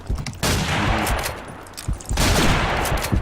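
Rapid bursts of gunfire from the Combat Arms shooter game, with two dense volleys of shots separated by a short lull, loud and close with no talking.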